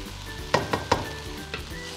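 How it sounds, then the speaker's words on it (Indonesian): A ground spice paste with galangal and turmeric sizzles in a pan while being stirred for ayam penyet, with a steady frying hiss and a few sharp spatula scrapes and knocks. "sekarang kita tumis. Nah sekarang bumbu halusnya kita seng-oseng."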